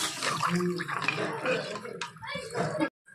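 Broth poured into a pan of katla fish curry and stirred, a loud continuous splashing, sloshing liquid sound with scraping movement, ending abruptly in silence.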